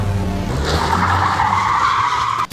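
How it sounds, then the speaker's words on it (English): A Mazda Miata's tires skid in a loud, sustained squeal over the car's engine noise, lasting about two seconds before cutting off abruptly. "my boyfriend, driving our Miata"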